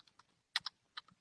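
Keys tapped on a computer keyboard while entering a Google search, a few sparse clicks followed by short bursts of quick keystrokes, close and clear with no talking.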